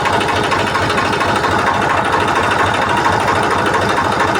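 An overheated tractor engine idles while stopped, a loud, even mechanical chugging with a fast steady rhythm and no voices.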